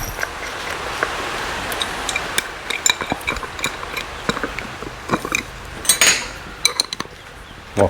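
A washer and big nut go onto the wheel axle of a 3800-watt, 4.75 kVA four-stroke Raptor generator, making close, irregular light metallic clinks and taps against a quiet background, without talk.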